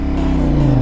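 A CFmoto 450NK motorcycle engine pulls away at steady, loud, close range, with a strong low harmonic drone that rises slightly in pitch as it accelerates.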